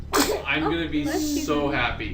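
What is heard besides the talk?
sneeze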